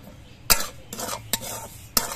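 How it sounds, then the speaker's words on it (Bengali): A spoon scrapes and stirs semolina frying in a pan, sharp clacks against the pan at irregular intervals over a low sizzle, close and clear with no talk. "সুজি দেওয়ার পর অনবরত নাড়তে হবে, নাহলে সুজিগুলো পুড়ে যেতে পারে"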